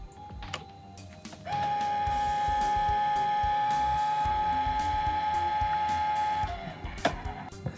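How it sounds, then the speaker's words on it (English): A slot-loading CD drive in a Power Mac G4 Cube runs its motor as it ejects and pulls a CD back in: a steady mechanical whine lasting about five seconds, close and fairly loud, with small clicks at start and finish and no talk. "I think it just tried to eject and then it took the CD back. Now it's ejecting it again."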